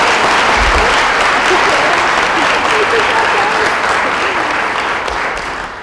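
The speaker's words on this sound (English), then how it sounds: "give them a big round of applause." A school crowd claps loudly for athletes signing national letters of intent in a high school setting, dense sustained applause close by that gradually fades toward the end, with no talk over it.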